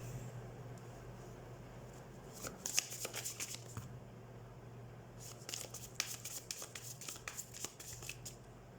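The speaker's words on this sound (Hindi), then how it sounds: "तो सबसे पहले हम कार्ड शफल कर लेते हैं वर्गो।" Tarot cards being shuffled by hand in two bursts of quick, crisp riffling and flicking, close and moderately quiet over a faint steady hum, with no talking.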